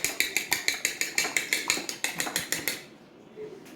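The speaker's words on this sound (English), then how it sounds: "I'm going to mix it up with my fork" Eggs being whisked into a meatball mixture in a bowl with a fork: a quick, even run of about sixteen bright clicking strokes against the bowl, close and clear, then stopping abruptly.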